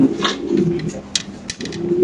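A pair of pigeons cooing in a pigeon keeper's loft, one bird sitting on eggs: low, steady throaty coos run through the whole stretch with soft rustling and a few brief clicks, close by.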